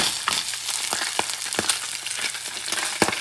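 Salmon cake ingredients seasoned with salt and pepper fry in a pan with a steady, close sizzle, broken by occasional sharp clicks and scrapes of a utensil; no one speaks.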